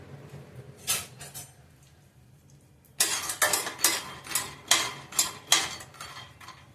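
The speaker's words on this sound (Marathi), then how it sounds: "आता आपण शेंगदाणे टाकून घेऊया आणि मीडियम गॅसवरती आपण भाजून घेऊया" Raw peanuts dry-roasting in a pan over a medium gas flame, with a few scattered rattles at first, then louder, rhythmic bursts of nuts clattering and scraping against the metal as they are stirred.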